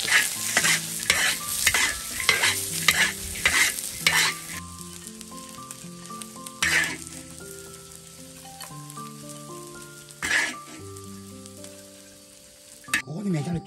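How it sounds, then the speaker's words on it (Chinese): Fish sizzles and fries in hot oil in a wok, with stirring and a loud crackling burst near the start, while tonal background music plays through most of the stretch. "起锅烧油，油温烧热，下鱼了"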